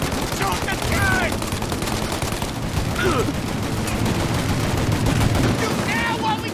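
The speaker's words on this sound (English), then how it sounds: "Shoot out your gun when there's a break in the fire!" Sustained gunfire in Mafia: Definitive Edition during a country shootout. A dense, unbroken roar of rapid shots fills the scene, with faint shouting voices underneath.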